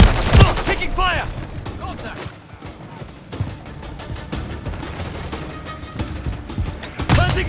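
Call of Duty 3 combat rattles with rapid bursts of gunfire and thuds, loud and close, as voices shout over the shooting.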